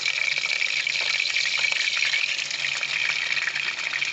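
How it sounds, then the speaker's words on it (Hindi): Magaz (brain) fries in seven to eight tablespoons of hot oil in a pan, a steady, loud, close sizzle that hisses evenly without pauses or voices. "ऑयल को हम गरम कर लेंगे और सबसे पहले हम मगज़ को फ्राई करेंगे।"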